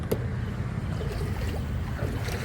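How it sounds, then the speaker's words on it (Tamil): Floodwater pours into a house during heavy rain in Kanyakumari district, a continuous rushing, churning wash of water that holds steady at moderate level with no voices. "தண்ணி அங்கேருந்து மறுபடியும் வந்துட்டே இருக்கு."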